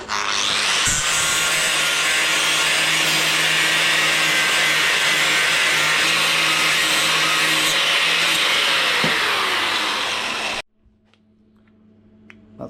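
MIG tack welding on a custom bike build, a loud steady electric crackle and hiss that runs unbroken for about ten seconds and then cuts off abruptly, leaving quiet workshop sounds.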